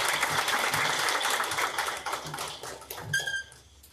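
An audience at a student toppers' talk event gives a dense round of applause that holds steady for about three seconds, then thins out and fades to near silence.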